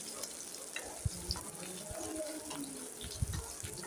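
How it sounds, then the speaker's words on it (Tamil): Tomatoes and other ingredients being sautéed in a pan for a Tamil-style chicken curry, with a steady low sizzle and occasional clinks and scrapes of a stirring spoon against the pan, no talking. "அதை நல்லா வதக்கி விடுங்க, நல்லா வதங்கணும்."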